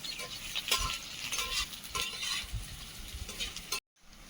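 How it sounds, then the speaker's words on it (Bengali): Chopped onion frying in a pan, with a soft sizzle under repeated close scrapes and taps of a spatula in an uneven rhythm, cutting off abruptly just before the end. "পেঁয়াজ দিয়ে একটু ভেজে নিয়েছি"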